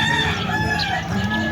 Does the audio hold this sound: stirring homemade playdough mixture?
no